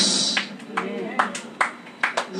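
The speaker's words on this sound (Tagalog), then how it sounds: "Salamat sa ilang pumalakpak." Scattered clapping from a congregation at an El Shaddai healing service, a few separate sharp claps spaced irregularly over a low, roomy background.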